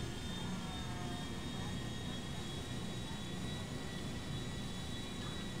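A fixed-wing airplane in GTA 5 takes off with a steady, unbroken jet-engine roar that stays even and moderately quiet throughout, with no distinct voices over it.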